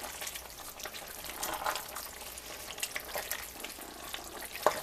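Spoon stirring goulash seasoned with garlic powder in a pan, a soft, steady sizzle with scraping and wet stirring sounds, fairly quiet and close, no voices.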